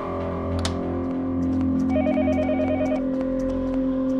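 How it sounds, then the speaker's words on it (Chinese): A telephone ringing in the horror video game Yomawari: Night Alone, a short warbling electronic ring repeating over a low, droning eerie background score, with no talk. "里世界是不停的电话声"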